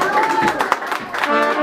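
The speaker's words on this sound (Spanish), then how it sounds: "Ese aplauso maravilloso que se escuche" An audience at a quinceañera claps and cheers in a mixed, crowded wash, with voices and tonal sounds running through the applause for its whole short length.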